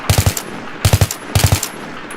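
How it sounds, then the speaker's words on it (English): Three tight bursts of assault rifle fire from Battlefield 3, each a quick cluster of three or four sharp, punchy shots, evenly spaced and loud with nothing else over them. "3-round burst, 4-round burst, right on target."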